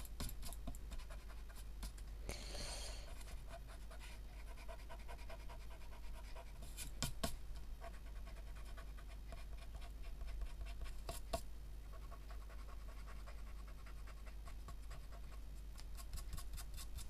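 Quiet scratching of a pencil on paper, with soft strokes and occasional brisk scribbles over a low steady hum.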